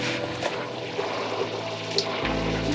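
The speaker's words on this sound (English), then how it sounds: "I'm gonna add just a little bit of water" Water trickling into a mixing bowl of naan dough, a soft continuous liquid pour close by in a kitchen, with a low hum that rises near the end.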